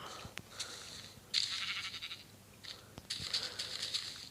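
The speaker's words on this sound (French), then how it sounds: "Quand je me fais mal, il fait le cri du mouton." Sheep bleats from a sheep skin in Minecraft Pocket Edition survival play, sounded when the player takes damage: two short bursts separated by quiet, with faint clicks and taps between them.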